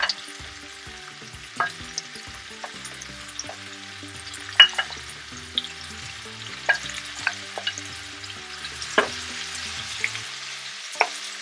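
Pieces of pork spare ribs laid into a hot pan with sautéed spinach, frying with a continuous sizzle and scattered crackles and spoon scrapes, close up, over soft background music and with no speech.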